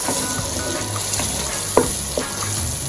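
Blended tomato and pepper puree sizzles and fries steadily in a pot for Jollof rice, a constant broadband hiss with a couple of brief clinks or stirs partway through, no talking.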